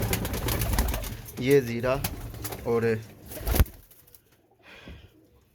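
Soft pigeon coos from pet pigeons repeat a couple of times nearby while someone talks over them, then a quiet coo alone at the end.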